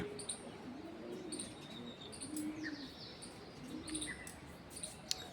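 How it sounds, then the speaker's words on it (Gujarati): Birds at a Meldi Mata temple in Wadhwan, where many pigeons gather, chirp and call repeatedly in short bursts. Low cooing sits faintly beneath the sharper calls, with open outdoor ambience and no talking. "ઘણા બધા કબૂતર આવે છે."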